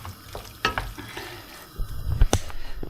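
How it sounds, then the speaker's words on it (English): Leftovers are stir-fried in a pan, a soft sizzle broken by a few sharp scrapes and clatters as the food is tossed and stirred, close and fairly loud. "Stir fry that away"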